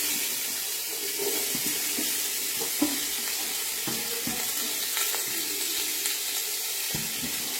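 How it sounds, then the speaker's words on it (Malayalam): Onion is added to a pan already holding ginger and garlic and sautés in oil, making a steady, moderate sizzle broken by intermittent stirring scrapes and a few light clinks. "നമുക്ക് ഉള്ളി വാട്ടാൻ വേണ്ടി ഉള്ളി ഇട്ട് കൊടുക്കാം."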